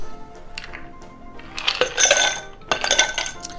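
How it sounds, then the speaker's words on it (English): Ice cubes dropped into a cocktail glass while mixing a white-rum Clipper cocktail, giving two close clattering, clinking bursts with no voices. "Add your ice."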